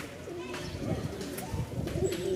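Pet pigeons, including almond-coloured crested birds, cooing softly in low rolling phrases close by, with faint background murmur throughout.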